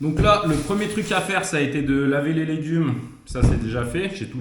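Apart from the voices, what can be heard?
No everyday noise stands out behind the speech.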